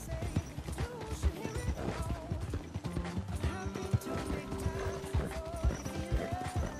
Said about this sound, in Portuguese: Gastar a energia desse cavalo aí, depois eu vou só trotando para recuperar.